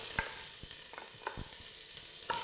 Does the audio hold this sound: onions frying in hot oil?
yes